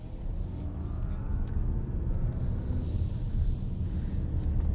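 A 2021 Kia Telluride SX AWD Nightfall Edition SUV drives on the road, heard from the cabin as a steady low rumble of engine and tyres with a constant broadband road hiss and no pauses.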